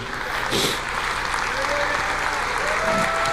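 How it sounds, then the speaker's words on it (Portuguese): A church congregation standing to applaud and praise, continuous crowd clapping under a loud, steady backdrop with voices rising over it. "Aplauda o Senhor, glorifique o nome do Senhor."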